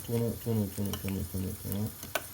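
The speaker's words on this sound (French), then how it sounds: "Et nous prenons une fourchette et nous tournons" A fork stirs wallpaper paste into water in a container, giving six rhythmic, evenly spaced swishing strokes, close and fairly quiet, ending with a small sharp clink.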